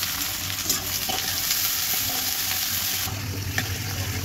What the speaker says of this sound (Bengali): এখানে দিয়ে দেবো পেঁয়াজগুলো বেরেস্তা করার জন্য।